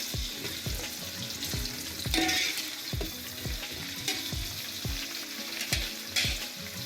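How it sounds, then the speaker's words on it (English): Onion and curry leaves fry in hot oil with a steady crackling sizzle, while a spoon scrapes and knocks against the pan in a regular stirring rhythm, close and moderately loud with no talking. "I'm going to drop in my onion and my curry leaf together. Just want to give this a quick stir."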